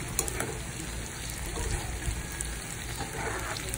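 Tofu sisig browning in butter in a pan and being stirred, a loud continuous sizzle with scraping and clinking of the spatula, nobody speaking over it.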